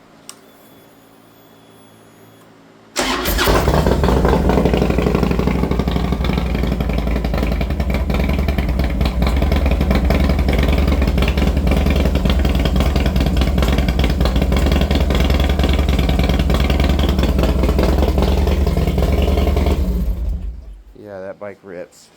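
A Harley-Davidson Sportster motorcycle engine roars to life and holds a loud, rough, throaty idle with revving for many seconds before cutting off abruptly.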